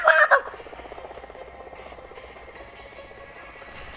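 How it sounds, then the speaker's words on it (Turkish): Helicopter in a Roblox video game, a steady rapid rotor chop pulsing continuously at moderate loudness after a brief louder burst at the start, with no talking over it. "Lan helikopter"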